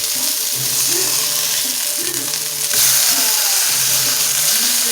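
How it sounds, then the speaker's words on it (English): Onions sautéing in a pan alongside cooking burger meat, a loud continuous sizzle with rhythmic scraping and stirring strokes close by, no talking. "So now you throw them onions in there and you start sauteing them onions"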